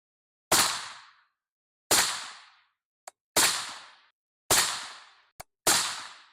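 A CZ Bren 2 MS rifle fires PMC 62 grain green tip ammunition outdoors, with five sharp, loud shots spaced about a second apart, each trailing a short echo, plus two faint clicks between them.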